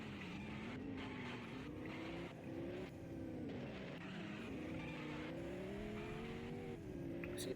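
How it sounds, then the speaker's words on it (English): A Porsche 718 GT4RS on a racetrack in a driving game holds a continuous engine drone while its tires give a wavering, sustained screech that rises and falls through corners, at a moderate level with no speech. "See, the tires are just screeching."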